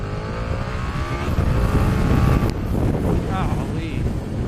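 A 2020 KTM Super Duke R motorcycle pulls hard with a loud rising engine roar and heavy wind rush, the revs climbing then easing, with someone talking briefly over it.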